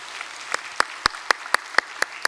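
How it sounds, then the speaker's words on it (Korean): A Sunday service congregation at Saenorae Myungsung Church welcomes new members with sparse clapping: about eight sharp, evenly spaced claps, fairly close and distinct rather than a dense wash. "우리 박수로 환영하겠습니다"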